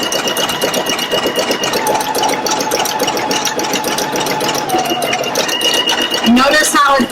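A Pfaff Creative Icon 2 embroidery machine stitches an in-the-hoop project, its needle hammering in a fast, steady mechanical rhythm, loud and close, with a brief clatter at the end.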